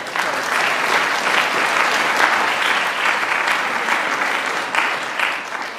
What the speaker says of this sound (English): So let's applause and wait for Paul's insights.